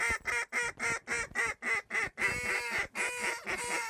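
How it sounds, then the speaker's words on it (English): Canvasback ducks quack in a quick series of about a dozen nasal calls, close and fairly quiet, in an outdoor duck hunting setting. "We look over our right shoulder and we just got buzzed on by 2 ducks."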